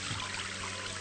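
Water pouring steadily into a glass of whisky, a continuous close trickling stream with no voices.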